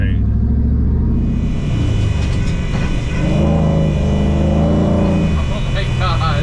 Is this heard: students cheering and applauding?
no